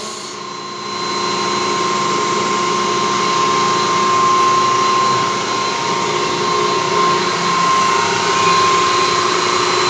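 A swimming pool filter pump driven by a 5.5-horsepower Compton Parkinson motor starts up after a brief quiet moment, then hums loudly and steadily with a constant mechanical whine.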